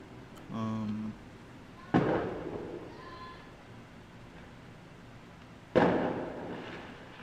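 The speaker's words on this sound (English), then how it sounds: "you guys have access to some really big fireworks or something" Big fireworks bursting outside, two sharp booms with decaying rumble heard at a distance, and a brief tonal sound before them, no talking.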